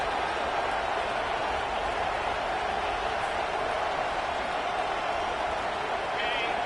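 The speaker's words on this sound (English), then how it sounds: "This crowd bringing the energy and noise early" A football stadium crowd roars in a dense, continuous wash of cheering noise, loud and unbroken for the whole stretch, with a commentator's voice faintly underneath.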